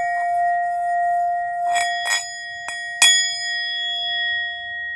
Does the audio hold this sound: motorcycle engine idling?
no